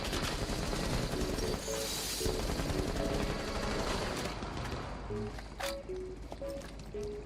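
Rapid bursts of gunfire ring out in a Rainbow Six Siege match, mixed with footsteps, game effects and short tonal beeps, all heard fairly quietly under ongoing play.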